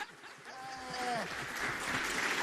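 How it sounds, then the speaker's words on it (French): An audience claps through a continuous wash of applause, with a voice briefly audible near the start before the clapping fills out. "Même quand vous ne comprenez pas, applaudissez."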